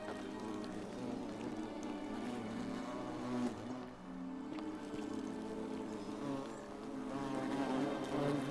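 Buzzing bees circle a bee's nest in a video game, a continuous low hum that dips briefly midway and then builds again, with no talking.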